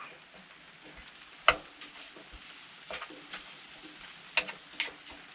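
Ground bison browning in a pan on a stove at a snowy campsite gives a soft, steady sizzle with faint crackles and a few sharp pops and clicks of a spoon stirring, heard close and alone.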